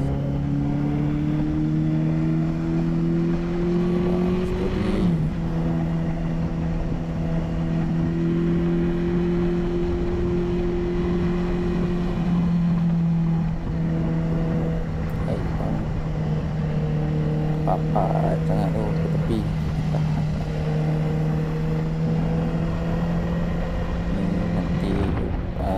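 A CFMoto 200NK motorcycle engine droning steadily while riding on the road, a loud continuous hum whose pitch rises and dips slightly with throttle changes, with wind rush around it.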